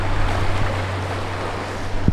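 Sea water rushes past a moving boat off a Maldives island resort, a loud, steady wash of waves and wind noise under a low engine hum, with no voices.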